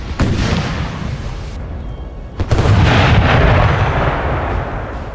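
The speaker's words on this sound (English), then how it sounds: "Congreve rockets, yeah. We've got 2 units of these bad boys." Congreve rockets in the Napoleon: Total War video game fire and explode in heavy, booming bursts. A loud blast opens, a second, stronger barrage follows, and rumbling explosions continue until the end.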